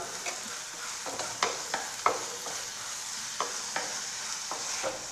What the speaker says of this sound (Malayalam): ഇത് വഴണ്ട് വരുന്നവരെ ഒന്ന് ഇളക്കി കൊടുക്കാം